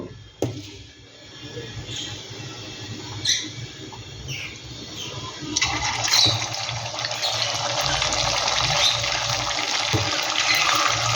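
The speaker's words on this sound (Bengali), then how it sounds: "তেলটাও কিন্তু আমার গরম হয়ে গেছে আমি এবার এক এক করে ভেজে নেব" Vegetarian pumpkin-seed fish patties frying in hot oil, a steady hiss of sizzling that swells and grows louder partway through as pieces go into the pan, with faint clinks and light kitchen noise underneath.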